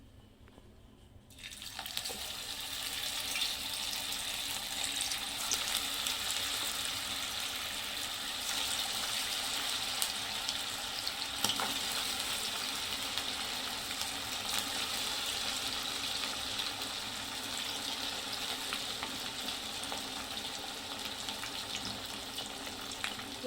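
Vadas fry in hot oil over a medium gas flame, a loud dense sizzle that bursts in after a quiet start and holds steady throughout, with a few faint clicks and no talking.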